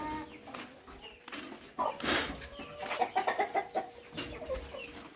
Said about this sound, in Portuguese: O pai dele é o nosso galo Sussex, aquele ali.